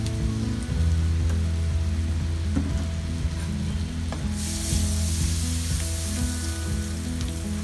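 Ingredients sizzling in a little oil and butter in an overheated pan for Spanish sardines pasta, a steady loud frying crackle throughout with occasional stirring clinks.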